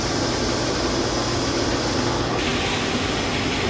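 A DTF printer runs a print head cleaning cycle with a continuous close whirring rush that shifts slightly in tone partway through, with no talking.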